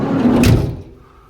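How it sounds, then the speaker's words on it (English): A heavy van sliding side loading door on a former police CCTV van rolls and thuds shut up close, a short rumbling slide ending in a solid clunk, then quiet. "Let's have a look at the state of the side loading door from here."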